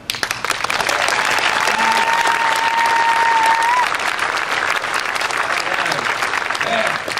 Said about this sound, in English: I'd like for you to give a big round of applause